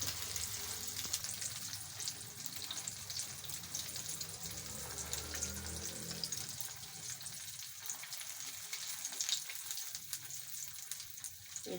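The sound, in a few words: potato balls frying in a pan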